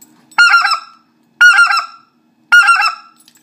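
Three loud, evenly spaced honks blown on a waterfowl call, a hand-blown imitation of a speck (white-fronted goose), close and alone with silence between each note.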